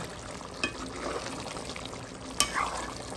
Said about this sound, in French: Je rouvre la marmite. Elle mijote. Elle est en train de mijoter.